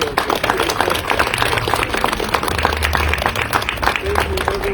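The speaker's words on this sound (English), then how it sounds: "Can we give one more round of applause for these amazing folks?" An audience applauds the artists at the close of an artist talk event, a steady, dense wash of many hands clapping throughout, with no words spoken.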